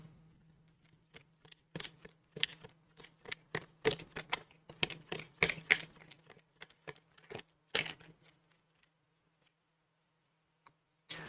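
Tarot cards shuffled and drawn during a reading, heard as quick soft flicks and riffles in uneven bursts that then thin out into a few isolated snaps over near silence.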